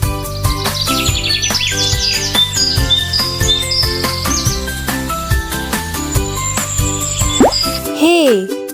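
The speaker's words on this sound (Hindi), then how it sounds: "चे से चिड़िया, चिड़िया बोली।" Cartoon bird chirping effect from a children's Urdu alphabet lesson: quick, high twittering calls repeat for several seconds, mixed into a cheerful backing melody that carries on throughout.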